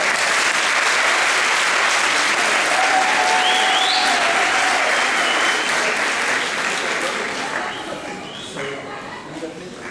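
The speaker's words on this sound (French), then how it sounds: "Sous les applaudissements de ces gens-là." A crowd applauding steadily for several seconds at a stage hypnosis show, dense and loud, with a few faint voices and whistles, slowly tapering toward the end.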